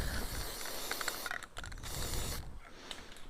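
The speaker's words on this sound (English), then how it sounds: "I'm just gonna be safe and spray it anyway." A close, continuous hiss of aerosol spray onto a pit bike air filter, briefly interrupted a couple of times, with faint clicking mechanical sounds in the background.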